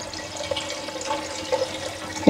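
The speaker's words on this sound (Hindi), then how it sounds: "एक पैन में हमने पानी लेना है" Tap water running and splashing into a cooking pan in a home kitchen, a soft continuous stream with a few small clinks near the end, close and alone without speech.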